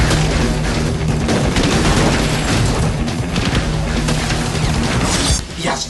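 Dense, continuous gunfire from a film action scene, with rapid bursts and booming shots that stay loud and cluttered for several seconds before easing slightly at the end.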